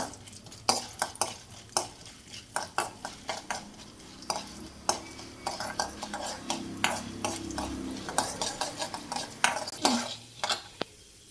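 Mustard seeds with chana and urad dal splutter in hot oil, a faint crackle beneath frequent sharp pops and spoon clinks against the metal pan.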